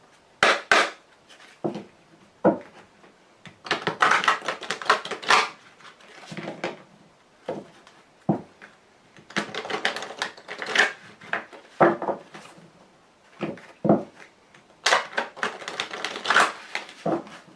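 Lenormand Grand Jeu cards shuffled and cut by hand, with close, irregular bursts of riffling and slapping card noise and brief pauses between them.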